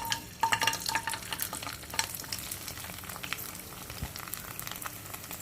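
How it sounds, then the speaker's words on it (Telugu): Dried Kurkure vadiyalu deep frying in hot oil, a fizzing, crackling sizzle with scattered pops and occasional clinks of a utensil against the pan, fairly quiet and close. "ఇంకో మనకి ఎండిన కుర్కురే ఒడియాలు ఇవి కూడా మనం ఆయిల్లో వేసుకుందాం అవి వేయించుకుందాం"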